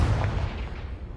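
Confringo explosive blast spell in the video game Hogwarts Legacy, a single loud, deep boom that rolls and fades over about a second.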